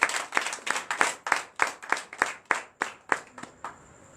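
At a Friday-night deliverance and prophecy church service in Benin, a congregation claps in unison for Jesus. About a dozen sharp, evenly spaced claps sound in a steady rhythm, each ringing briefly in the room before the next.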